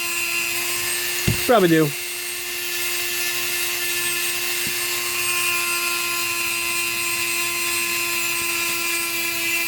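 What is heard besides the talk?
Dremel rotary tool sanding and polishing gun magwell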